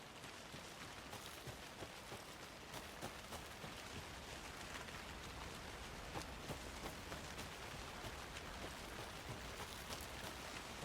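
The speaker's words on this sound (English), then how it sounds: "there's the rain again" Steady rain in the Alan Wake II game world, a dense, even hiss of drops spread across the whole range, continuous and unbroken with no voices over it.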